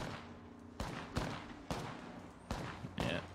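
Video game gunfire crackles in a ranked shooter match, several sharp shots in quick bursts spaced across a few seconds over a low steady background hum, fairly quiet overall.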